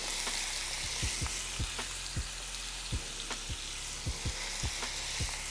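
Vegetables sizzle steadily in a hot pan for a cookout side dish, with a broad hiss running throughout and sharp clinks and scrapes of stirring recurring every half second or so.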